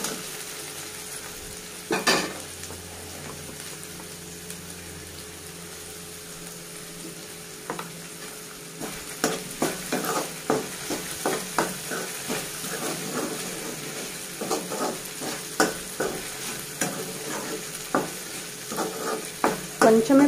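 Okra sizzles softly in a pan with turmeric, a steady frying hiss broken by repeated scraping stirs of a spatula that grow more frequent toward the end.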